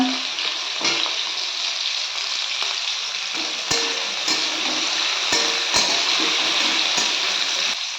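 Chopped tomato, carrot and potato fry in a pan for a broccoli vegetable dish. A dense, continuous sizzle runs throughout, with a few sharp clinks and scrapes from stirring.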